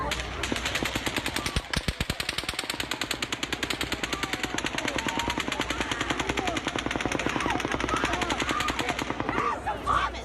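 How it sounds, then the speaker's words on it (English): Automatic gunfire during the Route 91 Harvest mass shooting, a long rapid burst of evenly spaced cracks from a distance, continuous for several seconds with faint crowd noise underneath. "But then, a sixth burst of fire."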